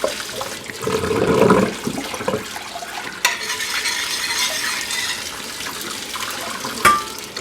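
Water pours and splashes over rice in a small wire-screen colander being rinsed for boiling, a close, uneven rush with clattering grains and a brief sharper knock near the end.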